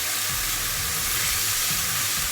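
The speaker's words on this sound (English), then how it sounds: "add your bacon and red onion in there like so." Bacon and red onion sizzle loudly and steadily in a pan with mushrooms, a dense, constant hiss with faint stirring beneath it and no voices.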